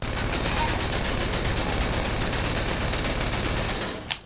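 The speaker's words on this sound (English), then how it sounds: "micro SMG" Micro SMG fired at a tank in GTA V, a dense rapid rattle of shots and bullet impacts on armor, continuous and close for about four seconds before stopping abruptly.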